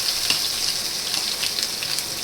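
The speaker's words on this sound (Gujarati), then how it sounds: "એના વઘાર માટે આટલું આદું નાખી દેવાનું અને આ મેક્સિકન મરચાં નાખી દેવાના" Ginger and Mexican chillies sizzle in hot tempering oil with cumin and asafoetida, a steady close crackling hiss with small pops, alone without talk.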